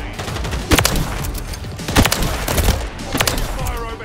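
Bursts of gunfire from a Ballista sniper rifle in Modern Warfare 3 ring out, several sharp loud shots spaced a second or so apart, with faint game noise between them.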